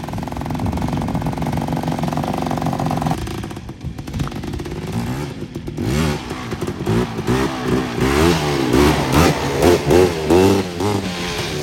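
A 1987 Suzuki LT500 Quadzilla ATV engine, loud and close, holding a steady drone at first, then revving up and down in repeated surging bursts.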